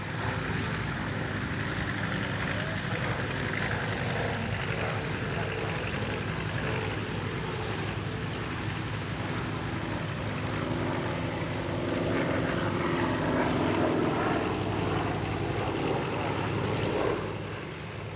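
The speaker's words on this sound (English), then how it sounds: "R2800 double wasp radial engine, and the result was the heaviest single-engine piston fighter ever produced" P-47 fighter with an R2800 Double Wasp radial engine flying overhead, a steady loud droning roar holding throughout and swelling slightly near the end, with wind and crowd noise under it at an airshow.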